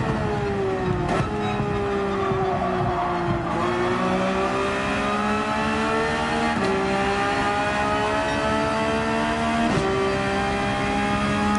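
A race car engine in Gran Turismo 7 revs and accelerates at Watkins Glen, a loud continuous whine climbing in pitch through repeated gear shifts that dip and rise again over eleven seconds.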